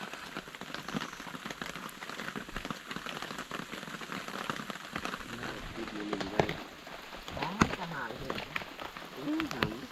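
Heavy rain hisses down on surfaces in a forest throughout, with a person speaking intermittently over the constant patter.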